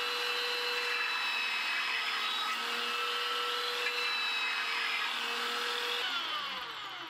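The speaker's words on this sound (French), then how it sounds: "je peux poncer directement avec la ponceuse à bande sur une table" A belt sander whirs steadily against a wooden table, a loud continuous grinding hiss that holds for several seconds before easing off at the end.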